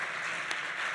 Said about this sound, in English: please, a round of applause for him one more time.